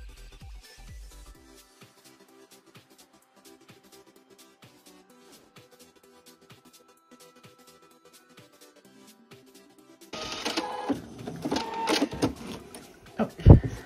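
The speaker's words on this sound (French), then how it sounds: "Et je viens coudre ici le long des bords." Sewing machine stitching a straight seam along fabric edges for a hanging fabric basket; quiet ticking at first, then a busy, close mechanical whirring burst for the last few seconds.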